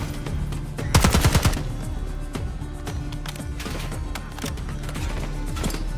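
Rapid automatic gunfire from the Call of Duty: Black Ops 6 video game, a loud close burst near the start followed by scattered distant shots and softer pops through the rest, with no talking.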